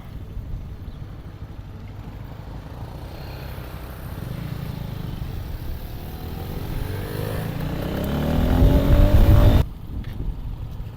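A motorcycle engine runs steadily and builds to a louder, rougher roar near the end before cutting off abruptly, with wind noise throughout.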